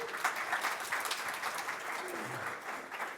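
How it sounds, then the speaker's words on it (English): Audience applause at a business fireside chat, steady clapping from a crowd filling the room for about three seconds, moderately loud and even throughout. "Give her a round of applause."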